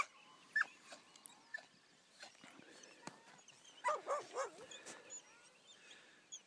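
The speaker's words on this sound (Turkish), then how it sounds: "Köpekler kendi aralarında oynuyorlar." Dogs play together outdoors in the highland pastures near Kartalkaya. Faint, scattered yips and whimpering barks rise in a brief cluster over a quiet open-air background.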